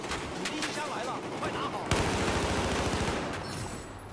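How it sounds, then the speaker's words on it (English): Battlefield 4 multiplayer gunfire crackles in rapid bursts, with a sharp loud shot near the middle followed by rattling fire, mixed with voices and game noise. "This guy's already shooting at me."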